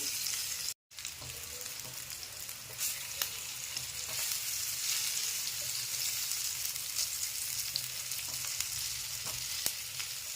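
Grated raw potato breakfast cake sizzles in a pan after being turned over, a steady low hiss with a brief dropout near the start and occasional soft taps.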